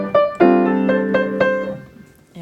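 Piano plays the B section of a piece: a few close, clear chords and notes struck in a slow rhythm, ringing out over about two seconds.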